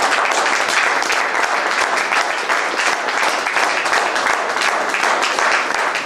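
Loud, dense applause from a family ceremony audience fills the whole stretch, many hands clapping at an even, sustained level without a break.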